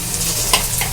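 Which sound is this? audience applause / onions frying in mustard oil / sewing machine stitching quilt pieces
onions frying in mustard oil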